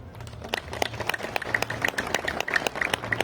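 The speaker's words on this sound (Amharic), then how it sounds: "ክርስቶስን የበላችሁ ክርስቶስን የጠጣችሁ እስቲ የቆረባችሁ አጨብጭቡ።" A church congregation claps together in a dense, continuous round of applause, fairly loud and close, with a faint murmur of voices underneath.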